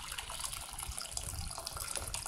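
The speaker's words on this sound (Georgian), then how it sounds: "გადმოვასხავთ ადუღებულ წყალს" Boiled water poured out of a jar during cucumber pickling, a steady close splashing stream that runs without pause for the whole moment, with no talking.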